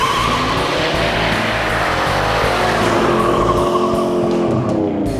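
A Pontiac LeMans muscle car revving hard with tires squealing, a loud continuous engine roar layered with screeching rubber, close and sustained with no talk.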